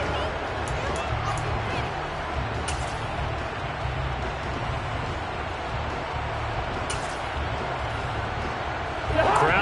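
A steady, dense roar from a football stadium crowd continues at an even level throughout, with a broadcast commentator talking over it and a slight swell at the very end.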